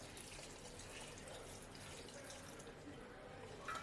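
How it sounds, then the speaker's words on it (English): Water is poured into a pot for carrot stew in a kitchen, a steady soft splashing and trickling stream heard alone and faintly at close range. "Pouring in some water that we use in cooking it."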